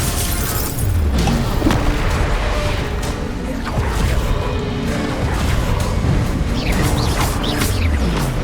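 Bombarda blasting spells going off in Hogwarts Legacy, with loud booming explosions, crashes and whooshes that pile up in a dense, continuous barrage of combat noise.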